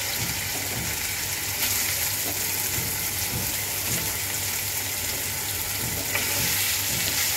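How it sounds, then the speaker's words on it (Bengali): Loita fish coated in salt and turmeric fry in hot oil in a pan, giving a continuous dense sizzle with soft crackles throughout, close and steady. "কড়াইতে তেল গরম করতে বসিয়ে দিয়েছি, আর লবণ আর হলুদ দিয়ে মাখা লইটা মাছগুলো আমি এখন একটু হালকা ভেজে নেব।"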